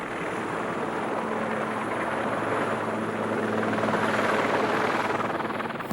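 Helicopter in flight, a steady loud rotor and engine roar that holds constant throughout with a low rhythmic thump underneath and no voices.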